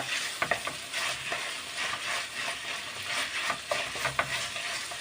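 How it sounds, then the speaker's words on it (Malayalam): Chicken parts curry with coriander leaves sautés in a pan, a steady fizzing sizzle broken by repeated scraping strokes of a spoon as it is stirred, close and fairly quiet with no talk. "നല്ലോണം വഴണ്ടി വരുന്നുണ്ട്."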